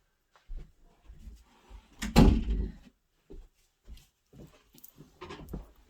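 One sharp, loud thud near the middle stands out from scattered softer knocks and rustles, like a room door being shut close by in a quiet indoor space.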